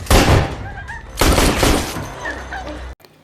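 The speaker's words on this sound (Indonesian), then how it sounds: "dan saling tembak-menembak dengan Wesker." Gunfire rings out during a shootout in a Resident Evil film, with two loud clusters of sharp, echoing shots close together before the sound cuts off abruptly.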